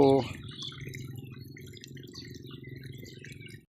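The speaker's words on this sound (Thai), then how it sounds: "ตรงนี้ตกน้ำไหลนี่ครับ" Water flows and drips at a fish pond inlet, a steady close trickle that runs for a few seconds after a brief voice at the start, then stops abruptly.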